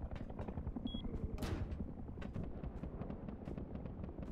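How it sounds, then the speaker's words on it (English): Gunfire in the video game Rust as players fight a helicopter: rapid bursts of shots, mostly distant and moderately loud, with one sharper louder report near the middle. "You hear all that shooting? There's someone trying to fight that helicopter."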